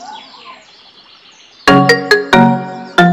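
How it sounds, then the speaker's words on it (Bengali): A mobile phone rings in a quiet room in a Bengali short film, its melodic ringtone notes bursting in loudly and close after a near-silent start, then repeating in short tonal phrases. "এই বাবা একটু ফোন করেছে"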